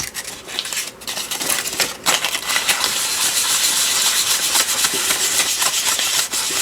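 Sandpaper rasps steadily against a page of paper being distressed, a close, loud scratchy rubbing that runs continuously with brief pauses near the start.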